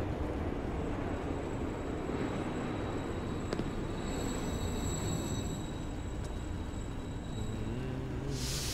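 A train arrives at a station in the video game GhostWire: Tokyo, giving a steady rumbling rolling noise with faint high tonal whines, moderately loud and alone without talk.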